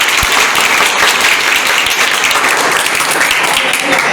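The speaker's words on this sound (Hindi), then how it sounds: "जोरदार तालियों के साथ।" A crowd at a school event at Prakash Inter College, held for Chief Minister Yogi Adityanath's birthday, gives loud, sustained applause, a thick and even wash of clapping throughout.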